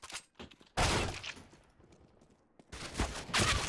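PP-Bizon submachine gun in CS:GO, two loud bursts of rapid automatic fire separated by a quieter pause with faint clicks and shuffling.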